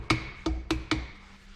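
Four sharp metallic hammer strikes drive a steering cylinder part into place during a tractor steering cylinder rebuild, evenly spaced, close and ringing briefly after each blow.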